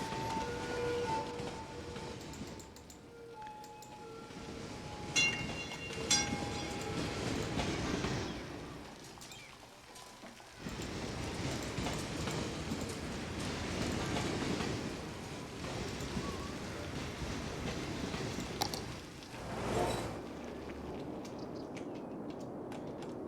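Cargo trains rolling through a city in the video game Cities Skylines, with steady clickety-clack of wheels on rails and passing rumble, some brief squeals, continuous over about twenty seconds with no talk.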